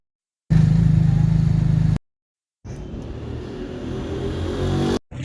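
A car engine runs in loud, steady rumbling stretches broken by short silent gaps, with the sound close and no voices.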